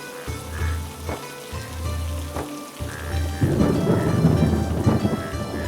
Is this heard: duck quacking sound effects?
no